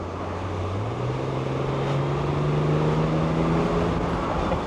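A steady BMW M57 diesel engine drone with a ZF8HP gearbox runs throughout, a low hum rising slightly in pitch as it idles and revs gently, heard from inside the car.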